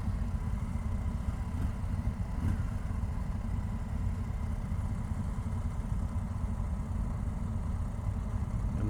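Indian Super Scout 2025 motorcycle engine idling steadily, a low continuous rumble holding even throughout, with no talk over it.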